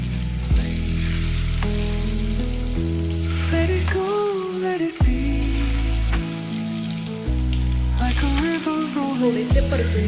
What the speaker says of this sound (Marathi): थोडेसे परतून घ्यायचे.